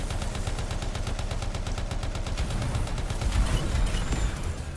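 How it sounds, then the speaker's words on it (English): Sustained covering gunfire in the Anthem video game, a steady rapid stream of shots with deep booming impacts building louder toward the end, no talking over it. "I'll give you a covering fire"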